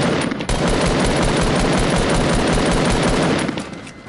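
Sustained rapid automatic gunfire from a Fortnite match, loud and dense for nearly four seconds before tapering off, with no talk over it.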